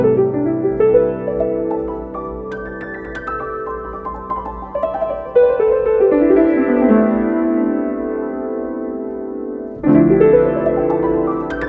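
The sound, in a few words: piano sample pitched down 300 cents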